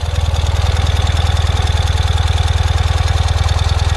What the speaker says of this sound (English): Bike fires up without hesitation. Idles very comfortably.